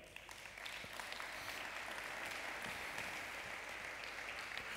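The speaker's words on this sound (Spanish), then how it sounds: "Un aplauso." Church congregation applause during a sermon fills the room as a steady, moderately soft roar of many clapping hands, holding evenly with no talk on top.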